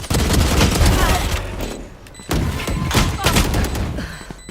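Loud bursts of gunfire and an explosion in the shooter game Valorant, dense rapid shots in two clusters separated by a short lull, with a voice talking over the action.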